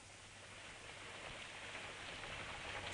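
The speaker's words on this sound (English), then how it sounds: "Still raining." Steady rain falling as a radio drama sound effect, a soft continuous hiss of drops that swells slightly louder toward the end, with no voices.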